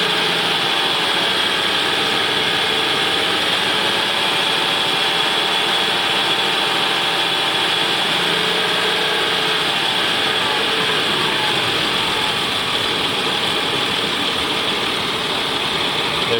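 A Ford Windstar 3.8L engine idles with a cylinder misfire from a bad coil pack, a loud steady mechanical drone and hum up close, continuous throughout without speech.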